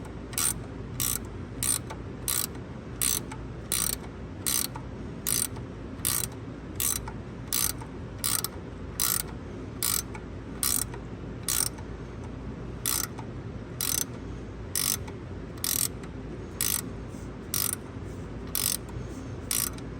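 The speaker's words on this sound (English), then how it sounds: "Maybe I'll see what I can do is, yeah, use the ratchet again." Ratchet tightening a new coolant temperature sensor on a 2014 Chevy 1500 5.3L, a quiet steady run of evenly spaced clicking strokes close by, repeated through the whole stretch with no talk.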